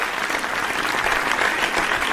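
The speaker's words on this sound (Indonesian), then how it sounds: "Sinpo TV, boleh kita beri tepuk tangan untuk Sinpo TV." An audience at a TV station relaunch event claps steadily for Sinpo TV, a dense, even wash of applause across the whole span.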